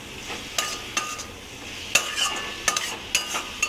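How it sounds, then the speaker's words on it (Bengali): Everest pav bhaji masala being stirred into cooking tomatoes, a spoon scraping and clinking against the pan in irregular strokes over a soft background sizzle. "একটু ভালো করে নেড়ে চেড়ে মিশিয়ে নেব।"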